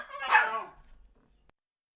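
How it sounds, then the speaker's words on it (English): A dog gives a single sharp, close bark that trails off into a short whine, followed by near silence. "My dogs are freaking out over here."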